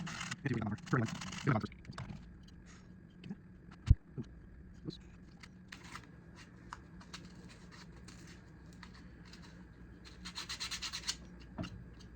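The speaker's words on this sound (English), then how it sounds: "I'm going to use sandpaper to widen it just a little bit." Sandpaper rubbing at a slot cut in a handmade wooden rainbow trout model, bursts of close, dry scratchy strokes near the start and again near the end, with quieter handling noises and scattered taps between.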